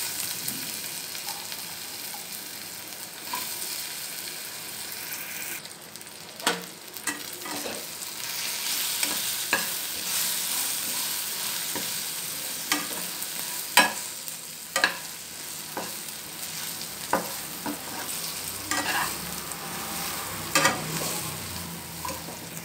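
Raw plantain (vazhaikai) slices fry in a pan with coriander powder, turmeric and salt, giving a steady sizzle broken by repeated scrapes and clicks of stirring, close and moderately loud with no talk.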